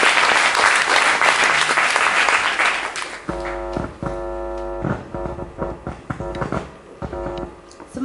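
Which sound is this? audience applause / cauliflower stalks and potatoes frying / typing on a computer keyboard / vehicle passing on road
audience applause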